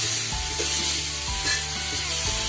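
Vegetables, including radish, stirred in a frying pan while they sizzle steadily, with a spatula scraping in a few rhythmic strokes over the constant loud frying hiss.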